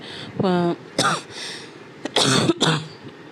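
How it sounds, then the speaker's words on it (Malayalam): A person coughs and clears their throat several times in short bursts at close range, indoors at home, with a few spoken words between the coughs. "അയ്യോ ചുമ ഇടക്ക് ഭയങ്കര ചുമയാണ് കേട്ടോ"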